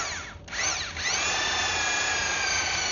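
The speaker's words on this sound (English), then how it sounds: "So the mixer head I'm using today is for a drier mix." A power drill fitted with a mixer head churns dry material, a loud, steady motor whine with a brief dip and pitch sweep near the start, then a continuous high drone.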